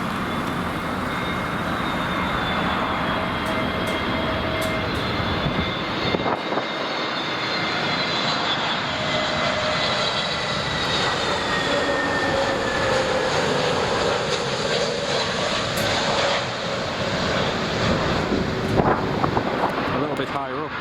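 A British Airways airliner at Heathrow passes with a loud, sustained engine roar and rising, shifting whine that swells and fades over about twenty seconds, with wind buffeting the microphone and brief speech.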